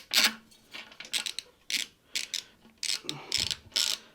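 Socket wrench ratcheting a bolt on a bracket near a motorcycle fuel cap, heard as a close series of short, sharp clicking bursts with brief pauses between them, no talk.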